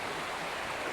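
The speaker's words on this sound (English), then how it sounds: "So I've actually come off course to show you these waterfalls." Waterfalls on a Cornish countryside stream give a constant, full rush of falling water, steady and close, with no other sounds.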